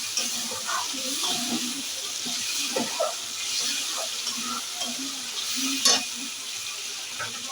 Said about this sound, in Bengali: এবার পুড়ে যাবে তো সেখানে একটু নেড়ে নিচ্ছি